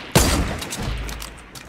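Gunfire in Fortnite: a sharp, loud shot bursts out and is followed by a rolling run of further shots and rumbling booms that slowly fade.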